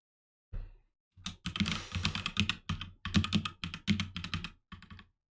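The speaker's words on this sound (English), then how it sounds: "y'all can most likely hear me tapping my keyboard" Close, crisp clacking on a computer keyboard picked up by a Blue Yeti microphone, bursts of rapid keystrokes with short pauses between them.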